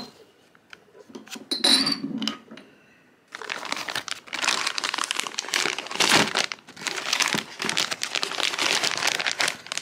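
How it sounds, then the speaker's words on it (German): Two beer bottles are unwrapped from crinkly packaging, starting with a few sharp rustles and light clinks, then a sustained loud crackling and crumpling close by. "Ich habe gerade hier diese beiden Biere hier ausgepackt"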